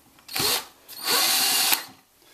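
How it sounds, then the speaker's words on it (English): A power drill drives a sheetrock screw into oak in two close, loud whining bursts, the second longer and straining slightly before it cuts off. "And I'm going to finish up with this last screw here."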